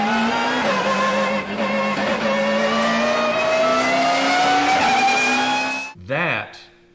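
Car accelerating with a loud, steadily rising engine whine and harmonics climbing in pitch over several seconds, close and continuous, then briefly dropping and rising again as a shift occurs near the end.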